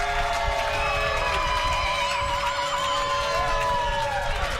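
Large baseball crowd at a Hamilton Cardinals home game against the London Majors cheers and roars steadily after a home run, a dense continuous wash of voices and whistles with no break.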